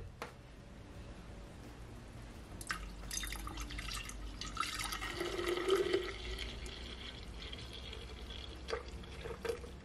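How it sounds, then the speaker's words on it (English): Milk poured into a glass of iced coffee, a soft liquid pour with faint drips and clinks of ice, quiet and close with no talking. "Then I'm gonna add my milk."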